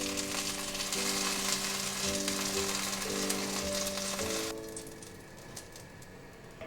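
Carrot pieces pan-fry in oil for a vegan dish, a loud, dense sizzle that holds steady for several seconds, then drops suddenly to a much quieter crackle, with faint tones in the background and no talk.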